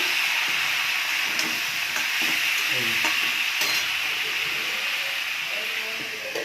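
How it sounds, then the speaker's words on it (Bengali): Tomato with cumin powder, turmeric, chili and salt sautés in a pan for an Indian curry: continuous close sizzling hiss with repeated stirring scrapes, fairly steady throughout. "এখানে জিরের গুঁড়ো, হলুদ, লঙ্কা, নুন দিয়ে দিলাম, দিয়ে ভালো করে কষে নেব।"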